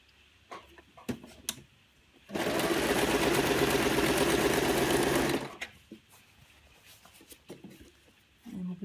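A household sewing machine runs a regular straight stitch along a memory cushion's edge in one loud, even three-second burst, with handling clicks and someone speaking before and after.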